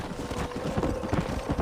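Horse hooves gallop in Red Dead Redemption, a quick rhythmic clip-clop of hoofbeats, close and steady, with no talk over them.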